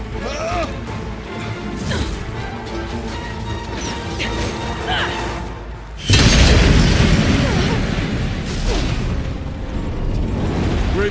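Explosive ammo detonates in the video game Horizon Zero Dawn: The Frozen Wilds, with a heavy booming crash midway that lifts a dense, rumbling battle din already full of clatter.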